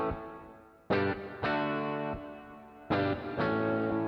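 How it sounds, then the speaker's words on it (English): IK Multimedia MixBox's big digital reverb washes over loud, bright synth chords struck in pairs, each attack blooming into a long sustained tail that fades before the next hit, with no talk. "like a big sounding digital reverb"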